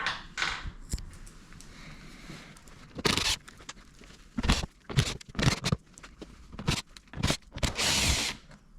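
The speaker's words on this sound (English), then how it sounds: "using a gun, but of course you can use a ratchet." An impact gun removes Torx screws from the undershield of a 2009 Volkswagen Golf Mk6 2.0 TDI in several short, sharp bursts of rattling whir, with handling clatter between them.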